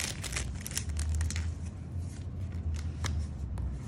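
A Pokémon TCG Vivid Voltage card pack torn open and its cards handled, close crinkly foil tearing and rustling with sharp crackles and card-flicking sounds throughout, no talking.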